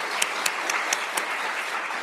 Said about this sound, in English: Let's give a round of applause to our amazing panelists.